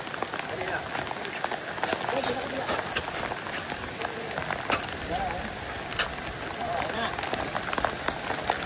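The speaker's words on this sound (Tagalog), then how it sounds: "Lumakas pa ulan for the go." Steady heavy rain hisses and patters across the whole stretch at a construction site, dense and continuous, with occasional louder drops and a faint voice in the background.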